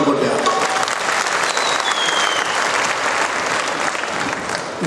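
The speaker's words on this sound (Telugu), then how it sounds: "ఇంకోసారి కేశవన్ గురుస్వామికి గట్టిగా చప్పట్లు కొట్టారు" Devotees at an Ayyappa Maha Padi Puja in Kolluru village give a loud, sustained round of applause for Keshavan Guruswamy, a dense crowd clapping continuously with no break.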